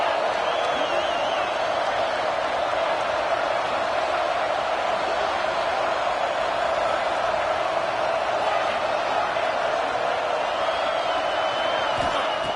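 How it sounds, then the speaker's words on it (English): A big stadium crowd roaring at a college football game between Houston and BYU, a steady, dense wall of cheering that holds at an even level throughout, with a commentator talking over it. "this big crowd doing everything possible to inspire this defense down here near the goal line"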